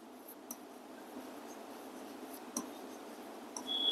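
Pen or chalk writing by hand during a chemistry lesson, a faint scratchy stroke with a few sharp taps over a quiet room.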